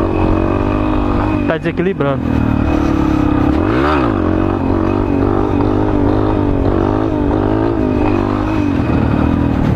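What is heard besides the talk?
Yamaha Lander motorcycle revving while rider attempts wheelie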